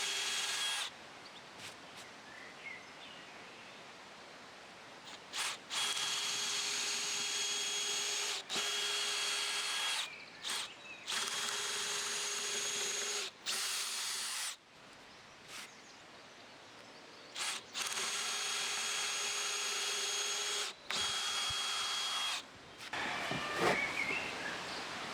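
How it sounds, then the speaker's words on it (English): Power drill boring pilot holes into a wooden post for monkey bars, in repeated whirring bursts of a few seconds each separated by brief pauses, close and steady. "I'm now drilling the pilot holes in the other post."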